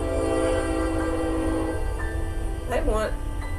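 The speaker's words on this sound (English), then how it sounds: "that train is loud today" A passing train rumbles loudly and steadily, with a brief horn blast near the end, all under a person's speech.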